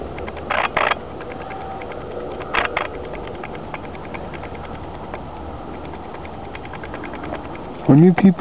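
A video camera's own operating noise while recording beside a rotary pond: faint, rapid mechanical ticking and whirring runs throughout, with a few brief louder bursts and a warbling tone near the end.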